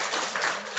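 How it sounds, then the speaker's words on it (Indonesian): A brief, fairly loud patter of crowd clapping at a Quran completion thanksgiving gathering, dense and even with no voices over it. "Tepuk tangan buat Bali G."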